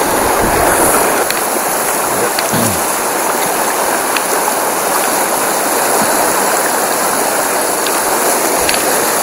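A stream runs downhill near Simbozero on the Kola Peninsula, giving a steady, close, broadband rush of flowing water that holds even for the whole stretch, with faint clicks scattered through it and no voices.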